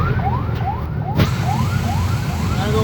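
A police siren wails in a fast repeating sweep, several rising-falling cycles in under three seconds, loud and close over steady traffic rumble.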